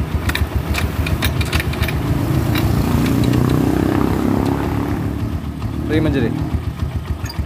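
A pickup truck engine runs with a low, steady rumble throughout, while people talk over it close by.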